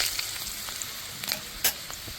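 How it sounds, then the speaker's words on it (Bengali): Chopped onion frying in a pan for Bengali ilish biryani, stirred lightly: a steady soft sizzle with a few brief scraping stir sounds, close and moderate in level, no voices. "পেঁয়াজটা হালকা নাড়াচাড়া করে নেব"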